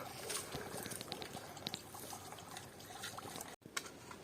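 A small stream trickles along the bed of a ravine beside the Zhabokriach river, a faint, continuous outdoor burble of flowing water heard up close.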